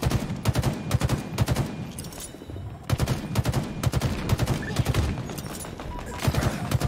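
Bursts of rapid rifle fire from Halo Infinite come in repeated rattling volleys, loud and close, with short pauses between strings of shots.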